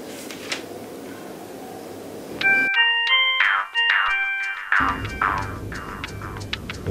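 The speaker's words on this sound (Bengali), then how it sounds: "তোমার ফোন আসছে?" A phone rings indoors with a short melodic ringtone of bright, stepped tones, clear and close, lasting about two seconds in a quiet room, with soft background noise before and after.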